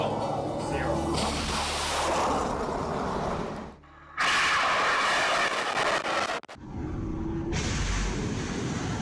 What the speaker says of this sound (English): Final countdown of the Stratos III sounding rocket.